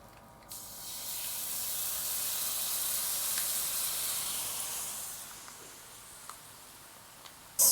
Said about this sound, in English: add my sauce, and deglaze the pan with it